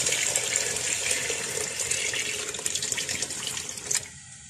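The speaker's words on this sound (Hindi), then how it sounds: "ये मैं इसमें सारी चिकन स्टॉक डाल दूंगी।" Chicken stock pours steadily into a pot with a continuous splashing gush that stops abruptly near the end.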